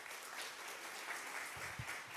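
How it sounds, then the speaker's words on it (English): Audience applause at a live-streamed church gathering, a steady wash of clapping at moderate distance that holds evenly throughout without voices over it. "give her a nice round of applause"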